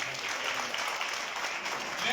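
Audience clapping at a school reading event, a steady wash of many hands applauding continuously at moderate level with faint voices mixed in.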